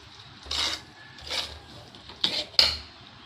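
Fermented dhokla batter being stirred in a bowl: a few separate bursts of clinking and scraping, with two sharper knocks near the end, close and fairly quiet, no talking.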